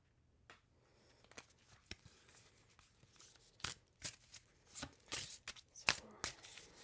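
Oracle cards being shuffled by hand in a quiet room, heard as soft slides and rustles followed by louder, quickening bursts of riffling cards and crisp flicks, close to the ear, with no talk.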